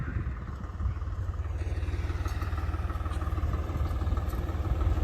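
A Swaraj 855 tractor engine runs steadily in a potato field, a low, even diesel chug with a rapid regular pulse and some mechanical clatter, close and constant throughout.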